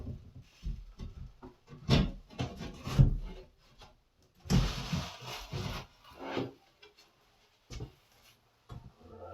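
A Kohler mirrored medicine cabinet being worked out of its wall opening between 2x6 studs gives a series of close scraping, rubbing and wooden knocking sounds in irregular bursts, with quiet pauses between.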